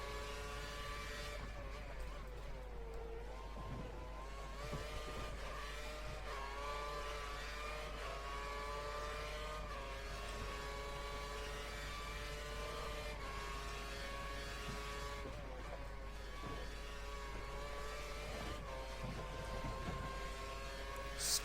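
Formula 1 car engine in the F1 2013 video game during Australia practice, a loud continuous high-pitched whine rising and falling through gear changes as the car laps the track, steady and close throughout.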